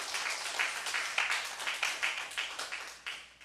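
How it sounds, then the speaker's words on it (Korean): A church congregation at a Friday evening revival service claps in worship, with distinct, fairly rhythmic hand claps that come close together, moderately loud in a reverberant hall. "하나님께 영광의 박수 올립니다"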